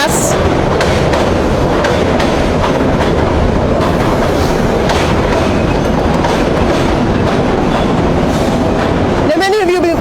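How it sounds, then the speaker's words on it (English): A train rolls past continuously at close range, its heavy rumble and clickety-clack of wheels on rail joints steady throughout, with a brief squeal near the end, in a New York City neighborhood during an outdoor public speech. "Wait for the train to pass."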